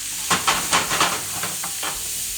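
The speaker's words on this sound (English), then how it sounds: "it's time to add our onions back into the pan" Onions added back into a hot pan, a burst of rhythmic hissing sizzles as they drop in, about six quick pulses followed by a softer steady fry, close and without talk.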